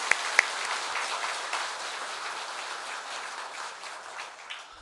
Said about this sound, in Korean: 우리 찬양대가 올해 한 해 동안도 애써서 준비하고 찬양 드리게 될 텐데 우리 박수를 한번 하겠습니다.